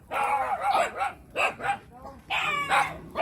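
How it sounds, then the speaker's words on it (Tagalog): Several dogs bark at a home, close by, in repeated short bursts with some higher yips mixed in. "Agoy, may mga aso."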